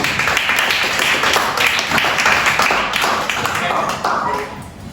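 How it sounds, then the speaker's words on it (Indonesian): Classroom applause, with a group of students clapping together in a steady dense patter that fades out near the end. "Tepuk tangan untuk kita semua"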